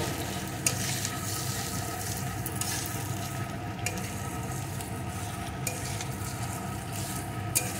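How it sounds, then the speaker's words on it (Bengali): Fried taro (gathi kochu) being stir-fried with spices in a pan, a continuous close sizzle broken by spatula scrapes and occasional clinks, with no voice. "কচুগুলো একটু সব কিছুর সাথে কষিয়ে নেব।"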